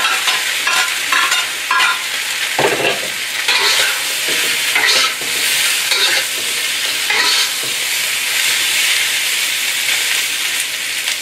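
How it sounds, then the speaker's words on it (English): Chicken stir fry with gochujang stirred in a hot pan, loud constant sizzling with repeated scraping strokes of the spatula, close and uninterrupted. "Just stir for the quick minute. And we're gonna add everything in."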